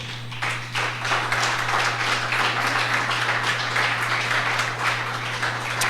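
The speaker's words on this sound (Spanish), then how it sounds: "Dale un aplauso a Cristo." Congregation applause at a church sermon: dense, continuous clapping rises quickly and holds steadily for several seconds over a low steady hum.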